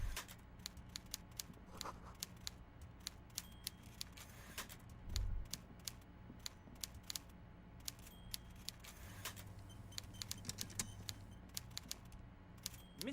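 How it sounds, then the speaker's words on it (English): Typewriter keys clatter in the detective game Disco Elysium, a quiet run of sharp, irregular clicks and taps over a low hum, with a soft thump midway and a faint carriage-like drag near the end. "Everard Clare clatters away on his typewriter"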